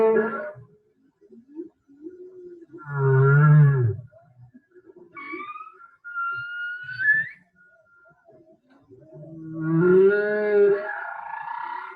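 A whale calls in a series of close, clear vocalizations: low moaning groans, rising tonal whistles and squeals, separated by short silences, with no talking.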